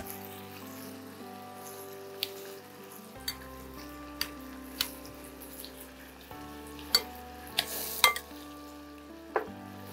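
Chicken frying in a pan with medium onion paste gives a quiet, steady sizzle broken by sharp scraping taps from stirring, close and without talk.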